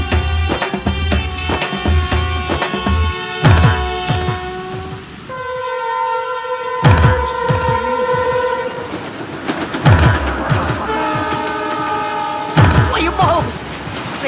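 A train arriving in a comedy film scene, heavy rhythmic clatter of wheels with repeated loud horn blasts in the middle, close and continuous throughout.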